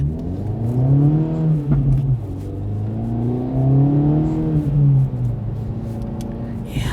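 A 2024 Acura Integra Type S engine revs up and down in several smooth swells, a loud, close, throaty drone with no talking over it.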